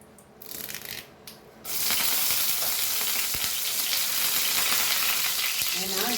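Curry leaves dropped into hot oil for a Goan cabbage stir fry, a sudden burst of loud steady sizzling that follows a few quieter kitchen sounds and keeps hissing to the end.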